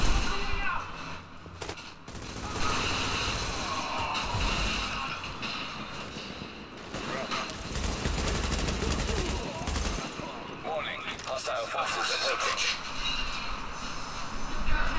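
Rapid bursts of gunfire in The Division crackle almost continuously, loud and close, with dense rattling volleys and a voice speaking briefly amid the shooting.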